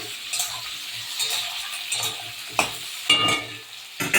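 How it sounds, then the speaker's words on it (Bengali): Sliced onions and capsicum frying together in a pan, a close sizzle broken by the scrape and clatter of a stirring spatula at irregular moments. "পেঁয়াজ ক্যাপসিকাম এরকম ভাজা ভাজা হয়ে গেছে"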